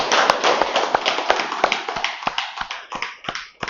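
An audience at a meditation session claps loudly and steadily, the dense applause gradually thinning into a few separate claps near the end.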